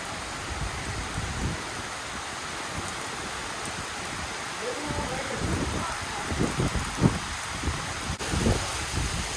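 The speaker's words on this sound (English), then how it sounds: "In the wind mixed with the rain, there's really no dry place." Wind-driven rain falls steadily on a forest at Brown County State Park, a soft broad hiss with low gusty rumbles and occasional louder drips or knocks.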